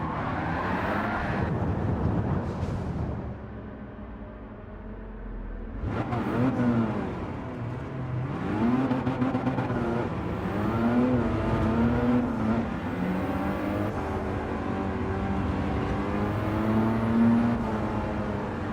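A Mazda MX-5 in Gran Turismo 7 drives with its engine revving up and down through gear changes, a steady close-up engine tone that swells and dips for the whole stretch with no talk.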